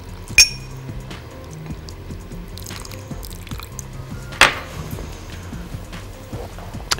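Lemon juice is poured into a glass for a cherry soda drink. A light trickle and a few drips are punctuated by a handful of sharp glassy clinks, close and fairly quiet.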